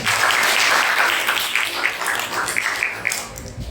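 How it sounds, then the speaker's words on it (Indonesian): Classroom applause for students after a lesson answer, a dense patter of many hands clapping together for a few seconds, steady then thinning slightly toward the end. "Tepuk tangan untuk kalian."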